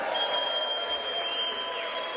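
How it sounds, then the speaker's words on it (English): Cheering and applause from a crowd in the House chamber after a 215–214 vote passes a bill, a steady dense wash of clapping and voices at moderate level throughout. "Cheers and applause."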